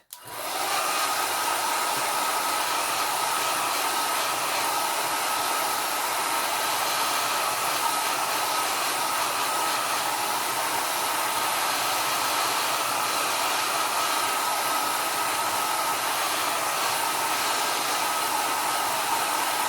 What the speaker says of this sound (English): actually I'm going to come in with the dryer for a moment